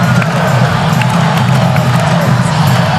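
A packed arena crowd roars through an NCAA men's volleyball championship match between Hawaii and UCLA, a loud, dense, sustained cheer with shouts rising out of it.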